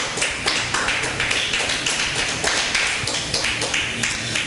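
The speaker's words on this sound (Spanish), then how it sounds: "Denle un aplauso fuerte al Señor Jesucristo." Loud, sustained applause from a church congregation, dense overlapping claps filling the room steadily throughout with no pauses.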